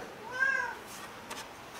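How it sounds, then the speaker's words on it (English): A house cat lets out one clear, close meow in a quiet indoor room, followed by a brief faint rustle. "That's my cat meowing."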